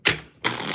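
Two quick riffling bursts of tarot cards being shuffled, close and crisp, with a brief pause between them and no talking.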